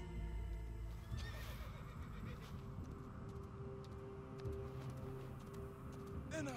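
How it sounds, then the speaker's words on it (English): A horse in the Assassin's Creed Origins video game whinnies amid steady clip-clopping hooves and a dense game soundscape, moderately loud throughout. "Horse."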